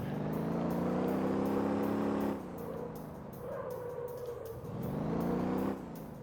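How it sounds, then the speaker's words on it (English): An Atlas dumper truck in the Motor Town racing game, with a steady engine drone whose pitch drops off and then builds again as it drives, recorded clean with no voices. "drive around here in a Atlas dumper if you choose to"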